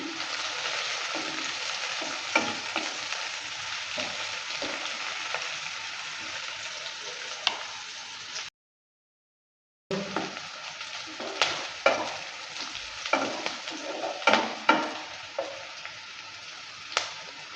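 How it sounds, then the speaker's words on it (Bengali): Onion and chopped chilli sizzle in a pan for veg chowmein while a spatula stirs them, with scraping clacks over steady frying hiss and a short silent gap partway through. "লঙ্কাটা দেওয়ার পর ভালো করে আবারও নেড়ে চেড়ে নিচ্ছে"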